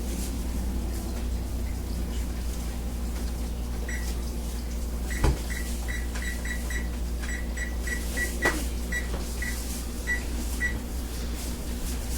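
A pumpkin pie is slid into the oven, with two brief thuds of the oven door and rack against a steady electrical hum and repeated faint beeps.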